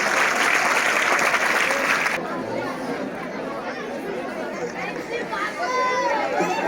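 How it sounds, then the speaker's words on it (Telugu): Students, parents and teachers at a high school teacher-parent meeting break into loud group clapping up close, the applause dense for about two seconds before fading into crowd chatter and murmuring voices. "అందరూ ఒకసారి చప్పట్లు కొట్టాలని చెప్పి"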